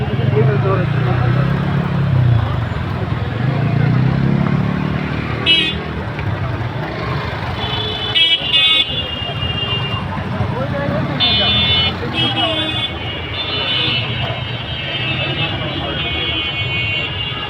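Heavy road traffic jammed near a crowded Qurbani cattle market, with a steady rumble of engines, occasional short horn or buzzer beeps, and a busy background of voices throughout.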